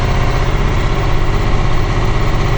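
A KAMAZ truck engine drones loud and close with a steady low rumble and vibration while the truck reverses under throttle.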